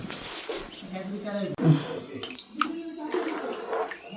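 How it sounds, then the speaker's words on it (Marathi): Water poured into a vessel over kokum (ratamba) fruit seeds, a close splashing and trickling that rises and falls, with someone talking over it. "आता याच्यामध्ये पाणी टाकून ह्या बियांना चांगलं असं हे करून घेतलं."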